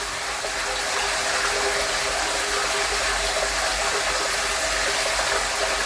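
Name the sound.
half-HP jet water pump pressurizing water flow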